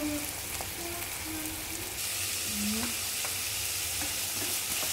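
Carrots sizzle and fry in a pan while macaroni with mayonnaise is being prepared, a steady crackling hiss close by with occasional stirring scrapes.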